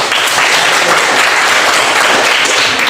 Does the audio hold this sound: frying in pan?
no